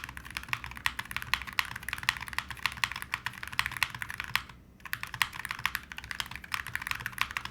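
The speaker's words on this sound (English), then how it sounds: "the Salvation's a very bright sounding keyboard" Rapid, crisp clicking of a Holy60 mechanical keyboard with metal keycaps being typed steadily, close and bright, with a brief pause midway.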